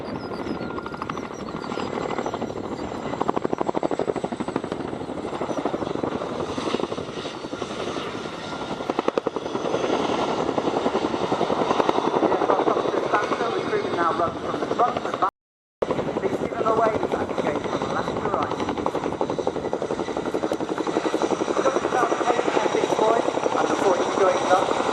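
A military helicopter at the RIAT 2023 air show slows from speed to a hover, its rotor and engine drone loud and continuous under a public-address commentator's talk.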